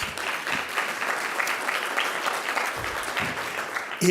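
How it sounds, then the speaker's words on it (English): Steady, dense applause rises from the audience at a literature symposium opening session and continues for a few seconds. "Another round of applause, please, for Edward."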